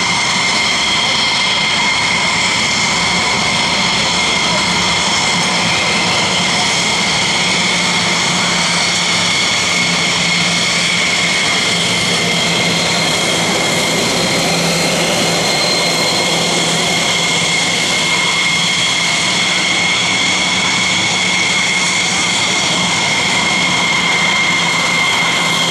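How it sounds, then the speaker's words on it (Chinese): F-16 fighter jets start up and taxi toward takeoff at an air show, a loud, steady engine roar and high whine that fills the whole stretch without letting up. "那第一架飞机的话呢 F-16 已经启动了，那现在是第二架，然后他们逐个的起飞"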